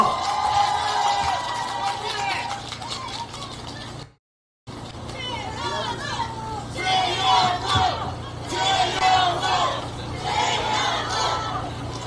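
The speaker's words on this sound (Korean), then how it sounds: "큰 박수 부탁드리겠습니다" An outdoor crowd cheers and shouts at a Democratic Party election rally outside Busan Station. Chanting voices and whoops rise and fall over a constant low rumble, with a brief dropout partway through.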